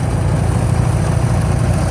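A John Deere garden tractor, a 210 or 316, idles after a cold start on New Year's Day, with a steady low rumble running close and constant and no talk.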